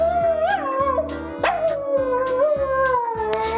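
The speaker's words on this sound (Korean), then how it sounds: "치자마자 짖고 하울링을 하네요." A dog howls and yips after pressing keys on a small children's toy piano, a wavering drawn-out howl rising and falling over repeated plinking piano notes, close and loud.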